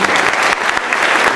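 A large audience applauding at an evening ceremony honouring champions in Saint-Claude, loud, dense and continuous clapping that fills the room from start to finish.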